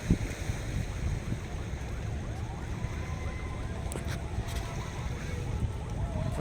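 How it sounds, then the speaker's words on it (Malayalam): Fishing boats' engines rumble low and steady as they depart in a line at night from Sakthikulangara harbour, with water washing around them and a faint high whine drifting over the drone. "വരി വരിയായിട്ട് ബോട്ടുകൾ പോയി തുടങ്ങിയിട്ടുണ്ട്"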